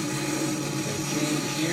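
Spirit Halloween toy Proton Pack powering on: a dense, steady electronic whir and hum filling the short span at a constant loud level, with no clear speech over it.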